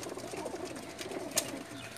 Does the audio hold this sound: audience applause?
no